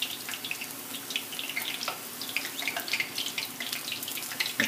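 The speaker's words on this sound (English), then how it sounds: "So it's frying up our Zeppolies." Homemade zeppole dough fries in hot oil, giving a continuous close sizzle full of quick bright crackles and pops at a fairly soft level. No one speaks.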